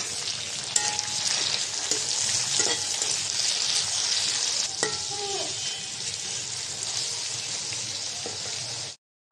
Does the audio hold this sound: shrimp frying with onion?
yes